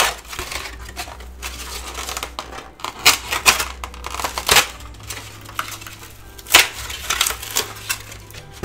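Old cardboard egg cartons are cut up for recycling, producing close, loud crunching, tearing and scraping noises in irregular bursts with short pauses between them.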